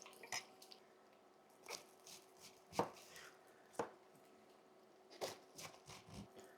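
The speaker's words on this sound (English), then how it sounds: "The next thing I need to cut up is my 1/2 head of cabbage." A knife chopping through half a head of cabbage on a board, a handful of sharp, separate close cuts at an uneven pace in a quiet kitchen.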